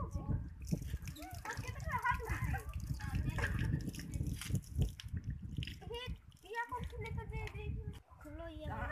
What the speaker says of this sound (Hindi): आप देख सकते हैं आम को धो रहे हैं, पानी से धो रहे हैं नाल कुआं से।